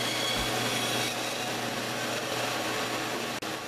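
Hand saw blade cutting through wood for an Inuit-style kayak paddle, a steady continuous rasping stroke sound held close and loud for several seconds without talk.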